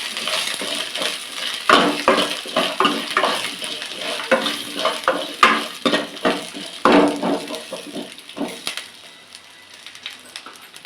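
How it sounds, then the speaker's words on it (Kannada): Chili, garlic and ginger frying in a pan for chicken chops, with close crackling sizzle and repeated scraping stirs of a utensil against the pan, easing off near the end. "ಫ್ರೈ ಮಾಡ್ಕೊಳ್ಳೋಣ."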